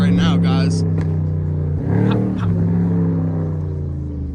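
Chevrolet LS3 V8 with muffler and resonator deleted revs loudly up close, its raw, rumbling exhaust swelling and dipping over a few seconds while voices talk over it.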